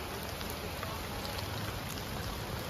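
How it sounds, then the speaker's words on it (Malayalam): Steady rain falls in Bali, a dense, even hiss of drops that fills the whole stretch at moderate loudness with no voices. "അങ്ങനെ മഴയും തുടങ്ങി,"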